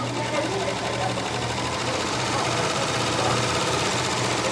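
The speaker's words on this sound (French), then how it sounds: "cette machine-là, la beauté de la chose, c'est qu'elle coupe et elle coud en même temps" An overlock serger stitches and trims fabric edges at once, a steady fast whirring mechanical hum with a low motor drone that runs unbroken and fairly loud throughout, with faint talk underneath.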